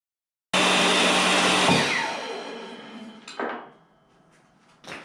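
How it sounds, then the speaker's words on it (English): A table saw rips through reclaimed scrap wood boards, a loud sustained whine and cutting roar that spins down over a few seconds, followed by a brief burst of wood noise and a later short clatter. "then I'll run it through my table saw for a pass just on one side of each one"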